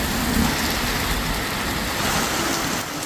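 Heavy rain falls in a mountain village as a steady, loud, broadband hiss that holds evenly throughout, with no voices.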